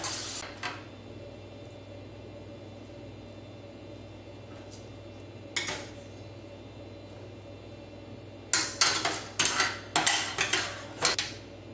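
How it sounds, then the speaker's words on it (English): A utensil stirs gluten-free, dairy-free fettuccine alfredo with vegetables in a pan, giving a few isolated clinks early on and then a rapid run of sharp metallic scrapes and taps near the end over a low hum. "So just keep stirring that, mixing it up while you're heating it up"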